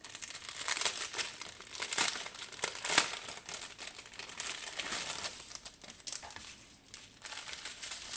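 A plastic package of diamond painting drills is handled and torn open up close, giving continuous crinkling with a few sharp crackles and clicks, no voices.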